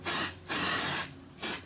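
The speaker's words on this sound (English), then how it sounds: "I'm just going to put a bit of hairspray on my fringe." L'Oreal The Big Hairspray is sprayed onto hair in three close, hissing bursts, each a steady aerosol rush with short pauses between.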